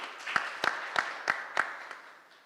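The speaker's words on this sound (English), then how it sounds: "A big round of applause to all of us." Sparse applause from a summit audience, a thin run of about half a dozen evenly spaced claps that fade out within a couple of seconds.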